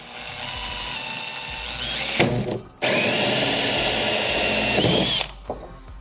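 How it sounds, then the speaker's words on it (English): A power drill with a 1 3/8-inch hole saw grinds through a kayak rail mount area in two long bursts, loud and close, with a short pause between and spin-down at the end. "Use a 1 3/8 hole saw for drilling your hole"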